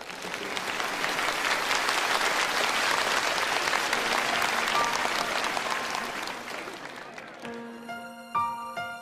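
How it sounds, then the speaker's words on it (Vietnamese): Audience applause welcoming a singer on stage at a concert, dense sustained clapping from a large crowd that fades as music begins to play at the end. "Xin quý vị một tràng pháo tay chào đón The Singer of Singapore"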